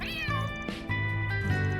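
A cat in the video game Trails Through Daybreak 2 gives one drawn-out, clear meow over soft background game music.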